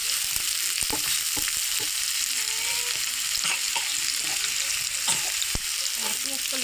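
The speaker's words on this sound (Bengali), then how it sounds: "আর এই পাতাকপিটাও দিব ভাজার জন্য" Cabbage frying in a pan with carrot, potato and onion for a village vegetable pulao, a constant loud sizzle punctuated by sharp scrapes and taps of stirring, close by.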